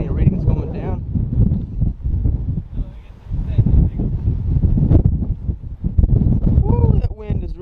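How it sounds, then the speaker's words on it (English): Strong outdoor wind buffets the microphone at Pinson Mounds State Park, a heavy low rumbling roar that surges and eases in gusts, with brief voices rising over it near the end. "that wind is really strong"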